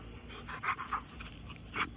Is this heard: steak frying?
no